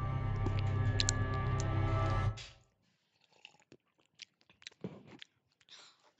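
Close, crisp chewing and munching with small crunches and wet bites starts after a loud burst of noise ends midway, then goes on in scattered, quiet clicks with no talking.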